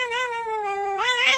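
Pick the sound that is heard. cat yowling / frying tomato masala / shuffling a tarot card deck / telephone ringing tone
cat yowling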